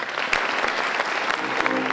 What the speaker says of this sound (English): a round of applause for them all